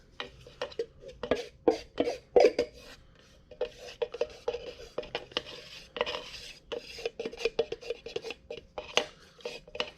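Metal-on-metal scraping and rasping inside an old Mazda RX-7 gas tank as surface rust is dug out, a busy run of irregular scratchy strokes and clanks, close and moderately loud, with no talking.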